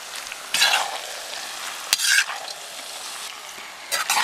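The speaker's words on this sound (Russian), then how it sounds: "хорошенько размешиваем" Eggplant caviar is stirred in a frying pan over a fairly high flame, a steady sizzle punctuated by several scraping bursts of the spoon, close and fairly loud with no talking.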